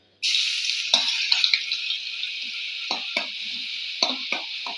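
Ginger garlic paste hits hot coconut oil with a sudden loud sizzle that holds steady, broken by a few clinks and scrapes of stirring.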